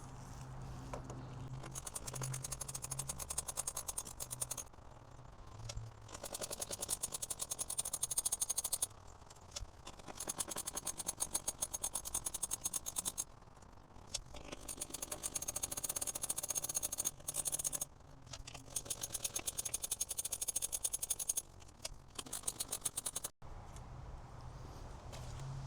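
A ratcheting socket wrench backs out 8mm bolts from the front bumper of a Fisker Ocean electric SUV, giving close, rapid clicking bursts in repeated runs separated by short pauses.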